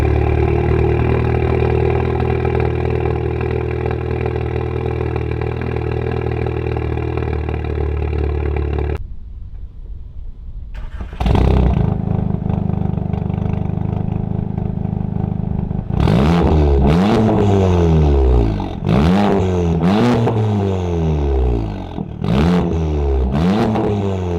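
A VW MK7 GTI with a downpipe exhaust drones at a steady idle, cuts off, restarts, then barks through a series of sharp, loud throttle blips close by.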